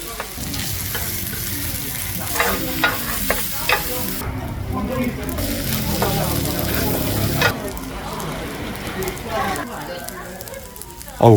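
Leftover beef intestine and fried rice sizzle steadily on a hot grill plate, with utensils stirring and scraping through it.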